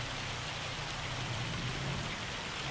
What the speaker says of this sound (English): It's hailing right now.